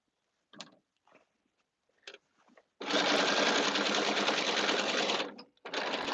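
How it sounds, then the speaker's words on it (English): A sewing machine stitches a caftan in a studio, first a few brief taps and short bursts, then a loud, continuous run of rapid stitching, a short pause, and another run starting up close by. "I'm literally like just sewing."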